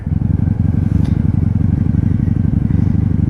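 A 1997 Honda Magna VF750C, a wrecked motorcycle, runs loud and close with a throbbing, pulsing engine note and steady rapid firing on the road.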